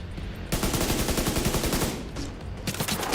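Dense, loud gunfire barrage in The Division 2, rapid automatic shots rattling continuously with a brief dip midway before the burst resumes, no voices.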